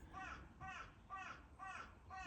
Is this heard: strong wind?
no